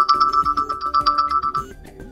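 An alarm tone plays on a Lenovo Tab P11 Gen 2 tablet: a bright, repeating melodic ringtone pattern of quick notes over a soft pulsing beat, clear and alone.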